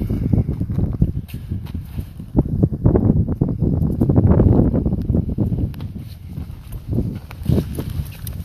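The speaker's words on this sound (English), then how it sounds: "It's getting windy." Gusty wind in the Arizona desert buffets the microphone with a heavy, uneven low rumble that swells and eases throughout.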